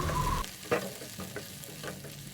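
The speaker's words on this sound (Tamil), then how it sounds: "ரெண்டு வெங்காயம் கட் பண்ணி வச்சுருக்கேன் இப்போ இது சேர்த்துருக்கேன்" Onions fry with chana dal in a pan for a chutney. A close, steady sizzle is broken by a few distinct stirring scrapes, and no one speaks.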